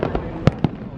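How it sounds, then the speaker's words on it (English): Fireworks go off at Daytona speedway: a few muffled pops and booms in quick succession, with one sharper crack standing out, heard from some distance over crowd ambience. "the fireworks are still going off"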